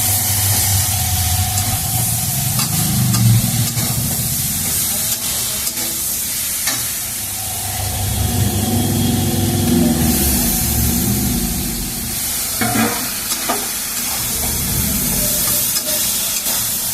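Water lilies being stirred in a pan with neem leaves for a Bengali shukto, frying and sizzling steadily with scraping stirs, followed by a hiss and spatter as a little water goes in.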